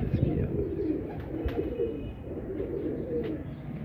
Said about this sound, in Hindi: फुल फिरोजपुरी गहरी आंखों का कबूतर